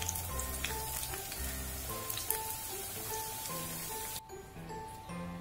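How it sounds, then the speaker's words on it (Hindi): Eggplant slices for baingan bhaja fry in hot oil, giving a steady, close crackling sizzle through the whole stretch while a melodic tune plays over it. "बाकी बैंगन को भी इसी तरह से फ्राई कर लेंगे।"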